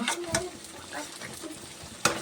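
Mutton cooking with cashews and raisins, sizzling and stirred in a pot, with a spoon scraping and clinking against the metal in several short bursts over a low frying hiss.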